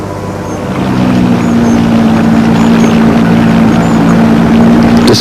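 Outboard-motor boat on the water while people gather wild rice, its engine a steady, loud drone that rises at the start and holds evenly throughout.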